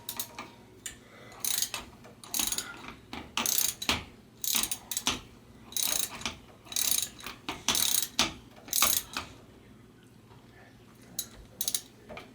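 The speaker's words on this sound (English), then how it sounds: "I'm going to use my ratchet wrench to snug these down to begin with here." A ratchet wrench snugging down bolts on a Rock Shox Jett C suspension fork: bursts of rapid clicking strokes repeated in an uneven rhythm, close and crisp, with short pauses between runs.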